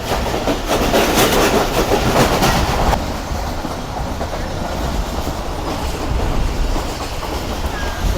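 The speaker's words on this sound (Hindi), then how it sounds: "तो ये पहलवानों के शहर से ट्रेन गुजर रही है इस वक्त।" The Islamabad Express rolling along its rails, a loud continuous rumble with rhythmic clickety-clack that is heaviest early on, then settles into a steadier roar.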